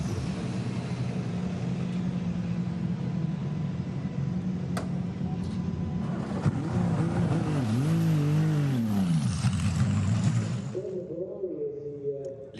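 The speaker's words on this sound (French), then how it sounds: "C'est la Cadillac numéro 2 qui va prendre la piste en première position." A Cadillac race car in Qatar qualifying for the World Endurance Championship drones steadily, then its engine swoops up and down in pitch as it passes, with a second engine tone near the end and commentary throughout.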